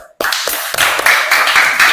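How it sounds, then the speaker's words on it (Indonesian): A group of students in a school classroom burst into hand clapping after a short quiet pause, a dense, steady patter of many claps close by that continues to the end. "Tepuk tangan."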